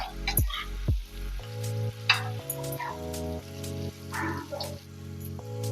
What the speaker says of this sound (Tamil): இப்போ ஓப்பன் பண்ணிட்டு கருணைக்கிழங்கை திருப்பி வேக வச்சுக்கலாம்.